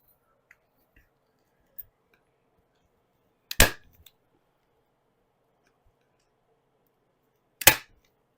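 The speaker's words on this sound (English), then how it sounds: "And staple it" Upholstery stapled onto a VW Beetle door panel: two sharp, loud, isolated staple-gun snaps several seconds apart, with faint small clicks and handling noise in between.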